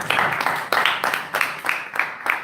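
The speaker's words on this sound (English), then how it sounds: "big round of applause for IDC." Audience applause for an event sponsor at a blockchain evening event, sparse sharp claps in uneven bursts, fairly close and moderately loud.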